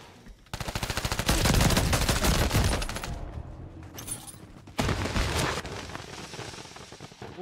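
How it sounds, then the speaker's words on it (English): Rapid automatic gunfire from Call of Duty: Modern Warfare III, loud and close. A sustained burst runs for a few seconds, then a short lull, then a second heavy burst of fire. "Why would I stop shooting?"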